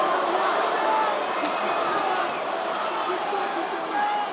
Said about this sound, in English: Crowd's been trying to get El Cucuy going all night.